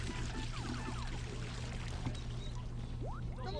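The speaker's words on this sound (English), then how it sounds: "There's a toilet flush sound in my winter car." A toilet flush in the video game My Winter Car: a steady rushing, pouring water sound with gurgling, low and continuous for a few seconds.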